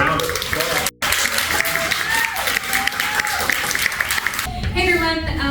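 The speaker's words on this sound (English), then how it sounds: "a round of applause" Audience applause fills a room at Powell's Books during a literary event, steady dense clapping with cheering voices throughout, briefly cutting out near the start before resuming and continuing loudly.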